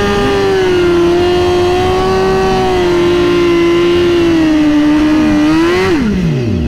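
A BMW S1000RR sport motorcycle held at a loud, steady high-rev engine whine on a drag run, close to the microphone, before the pitch drops sharply as the throttle closes near the end.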